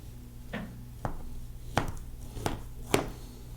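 A Yoshi Blade knife cuts slices from a turkey breast, giving five or six crisp, separate knocks on a cutting board roughly every half second, close and fairly quiet with no talk.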